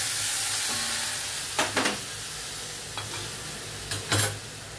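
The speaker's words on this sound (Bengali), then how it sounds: "এরপর একটু মশলাটা তৈরি করার জন্য একটু সামান্য জল দিচ্ছি, নালে পুড়ে যাবে।" Spice masala frying in a pan hisses steadily, with a few brief louder sizzling bursts as a little water goes in, cooking close by and no voices.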